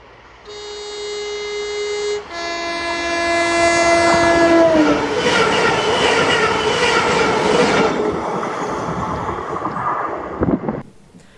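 A ScotRail class 318 electric unit, 318117, passes on the Edinburgh to Glasgow Queen Street service. A loud two-tone horn blast comes first, then the roar and rhythmic wheel clatter of the train passing close by, fading away near the end.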